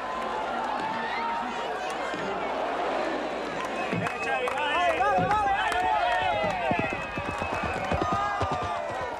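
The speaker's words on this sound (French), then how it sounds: "Au grand galop, le cavalier fonce vers l'objectif." A horse gallops with its rider through a dense festival crowd at a medieval-style equestrian event, with rapid hoofbeats amid loud crowd noise and voices throughout.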